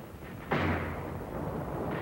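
A single heavy blast from World War II combat fire, 37mm guns and mortars, bursts abruptly and rolls into a long rumbling decay over the background noise.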